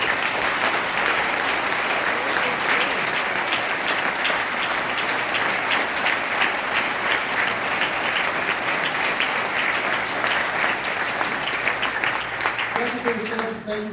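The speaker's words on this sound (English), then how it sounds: "So let's give this guy a round of applause." Applause from an audience at a Veterans Day speech honoring a veteran, a steady dense clapping that fills the whole stretch, with a few voices starting up near the end.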